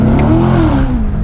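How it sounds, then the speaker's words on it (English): A 2016 Chevrolet Corvette C7 Stingray engine blips during a downshift, a loud, close, deep engine note that rises briefly and then falls away, with no talk over it. "Do a couple of downshifts"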